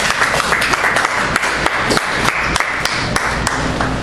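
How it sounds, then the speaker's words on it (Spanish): Loud, close applause from a church congregation, a dense clatter of many hands clapping continuously without talk. "de un aplauso a Cristo."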